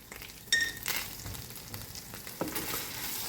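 Tomato paste sizzles in butter with mint in a pan, a close, continuous frying hiss broken by scraping stirs and soft clicks.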